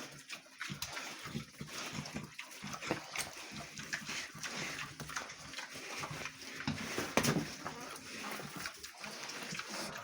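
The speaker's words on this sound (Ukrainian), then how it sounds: "це поросята кантори" Kantor crossbreed piglets (Duroc crossed with Pietrain), about four months old, grunting and squealing in a busy pen, with splashing and scuffling throughout, and a voice speaking briefly over the animal noise.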